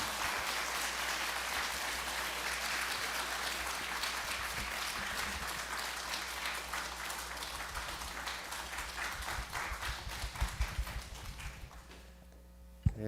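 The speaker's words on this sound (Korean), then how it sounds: "큰 박수 주시면 감사하겠습니다." A church congregation at a fourth-anniversary Sunday service gives sustained, dense applause that fills the room steadily for over ten seconds before tapering off near the end.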